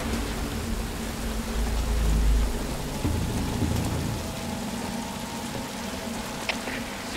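Steady rain falls across a night scene in Metal Gear Solid V: Ground Zeroes, a continuous close wash of drops with a brief low rumble early on and no talking.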